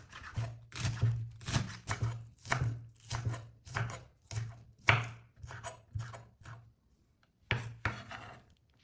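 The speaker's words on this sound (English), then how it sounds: "Next up, just chop the green onions finely to add freshness and aroma to the soup." Knife blade chopping green onions finely on a board, a steady run of about fifteen crisp, close knocks in quick rhythm, with a brief pause before a final pair of chops.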